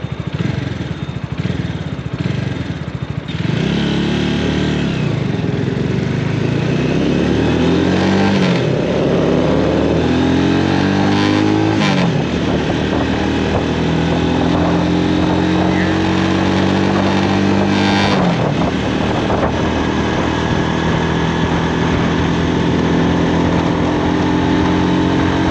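An X-Pro X24 250cc commuter motorcycle engine runs loud and close throughout, revving up and down in repeated rising and falling sweeps between steadier stretches.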